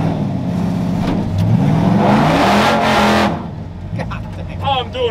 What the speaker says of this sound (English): All I'm doing is boiling the tires